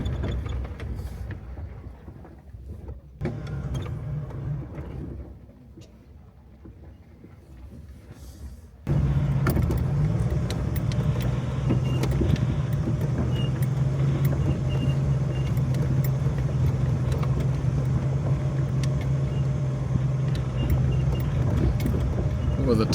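A 1988 Jeep Wrangler Sahara with a 2-inch body lift, top off, drives in four-wheel drive. It starts with quieter rumbling and rattles, then a loud, steady engine drone kicks in and holds, close up, with some voice underneath.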